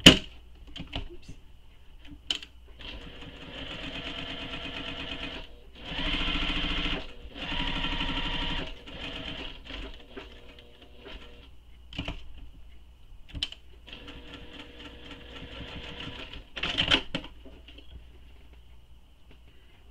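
A sewing machine stitches a clutch seam at a low level, running in several short bursts with brief stops between them, with faint clicks of the machine being adjusted.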